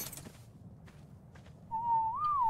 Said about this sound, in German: Pfeifen wollte ich nicht